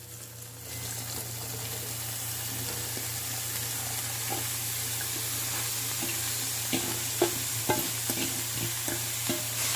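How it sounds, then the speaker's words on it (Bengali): Cabbage being stirred into a pan of spice paste that has been fried down, with a steady sizzle under repeated scraping and clattering stirs that grow sharper toward the end, and no talking. "মশলার সঙ্গে এবার বাঁধাকপিটাকে মিশিয়ে নেব।"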